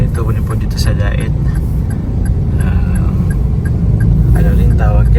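Busy road traffic in Daet, a dense rumble of passing cars and motorbikes close by with occasional horn-like tones, while people talk over it.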